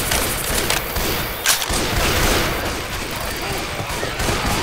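Dense gunfire in Left 4 Dead 2: a continuous noisy barrage of overlapping shots and clatter with no clear gaps, loud and close throughout.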